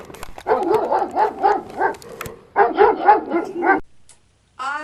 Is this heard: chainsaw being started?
no